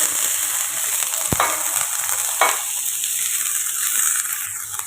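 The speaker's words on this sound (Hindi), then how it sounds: "हल्का सा इसे हम इस तरह से फ्राई कर लेंगे" Capsicum fries in oil over a medium flame, a steady close sizzle that continues throughout, broken by a couple of sharp stirring clicks.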